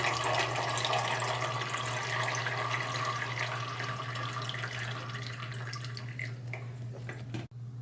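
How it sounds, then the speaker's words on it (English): Water trickles and drips steadily from a potted orchid set over a container as excess water drains out, a continuous close splashing patter over a low hum. "put it over a container and water it"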